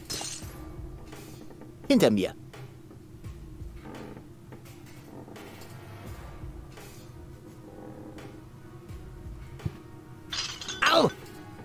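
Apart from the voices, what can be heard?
glass shards clinking in the video game Deponia 3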